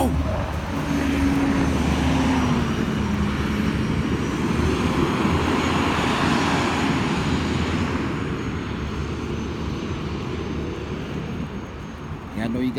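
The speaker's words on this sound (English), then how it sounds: "Series 60 Detroit diesel." Detroit Series 60 diesel engine of a CobbLinc bus running loud and close in a bus garage, a steady heavy rumble holding for the whole stretch and easing slightly near the end.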